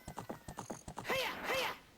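A horse in a video game clops along with quick hoofbeats, then gives two high, wavering whinnies close up.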